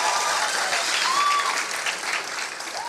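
Audience applause at a 2022 graduation ceremony, a steady dense wash of clapping filling the room at an even level for the whole stretch, with faint voices or cheers rising briefly above it.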